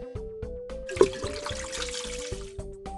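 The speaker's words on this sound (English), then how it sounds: "Move the hose to fill up the dog's water dish." Water from a garden hose in a kids' science game trickles and splashes steadily into a dog's water dish, with soft tonal blips and chimes plinking over the flow.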